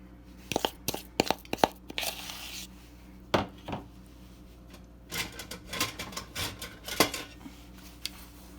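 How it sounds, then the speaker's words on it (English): A spatula spreads dollops of thick apple pie filling across pastry, with close scraping, tapping and sticky rubbing sounds in irregular bursts, separated by short quiet pauses. "I'm going to put in a little bit of goops, little dollops there, and then I'll spread it out with a spatula"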